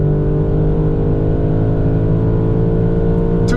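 2025 BMW M5 accelerating on the German Autobahn, a loud, sustained engine drone heard from inside the car, steady and close throughout.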